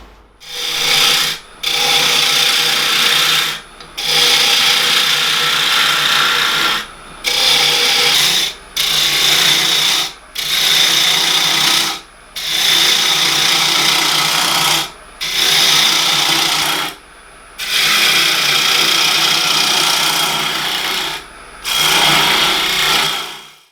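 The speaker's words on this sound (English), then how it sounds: "So we're ready to start turning the shape now." Wood lathe turning a wooden Holy Grail goblet shape, a steady broadband scraping hiss from the tool on the spinning workpiece, repeated in bursts of a few seconds separated by short pauses, close and loud with no speech.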